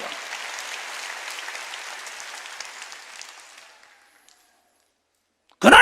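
Church congregation claps together for several seconds, the applause tapering off into silence before a sudden loud burst at the end.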